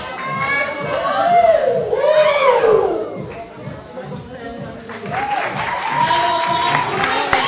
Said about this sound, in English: Everyone is cheering him on.